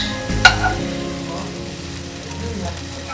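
Prawns fry on a tawa with a steady low sizzle after a sharp metallic clank near the start, and the sound continues evenly at close range.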